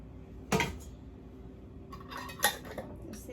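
A lid goes onto a cooking pot in a Lao home kitchen, giving two short metallic clanks about two seconds apart, the second followed by a few lighter rattles, quiet and close with no talking.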